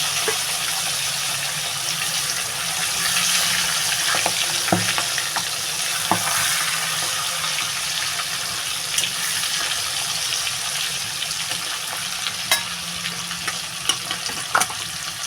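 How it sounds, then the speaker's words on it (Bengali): Gagra fish crackles and spits as it fries in a wok for a Bengali curry with potato and cauliflower, a steady close sizzle broken by scattered sharp pops throughout. "এখন ফাটা শুরু হয়ে গেছে দেখেছেন মাছটা কড়াইতে দিয়ে পারেনি তার আগেই ফাটছে"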